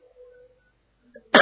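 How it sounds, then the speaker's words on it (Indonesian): A single short, forceful cough right at the end, after a faint tonal hum and near-silence. "Batuknya masuk ya."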